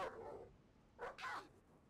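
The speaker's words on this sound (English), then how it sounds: "Come here, you damn dog." A dog in Tomb Raider: Angel of Darkness barks in short bursts, one bark followed by a quick double bark, fairly faint in a quiet alley setting.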